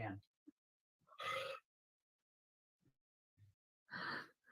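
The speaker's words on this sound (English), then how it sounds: "Why do you have to just like belch on fucking camera? Why are you always just burping?" A person belches on camera, two loud bursts separated by quiet gaps, close to the microphone, with a few faint grunts and breaths between them.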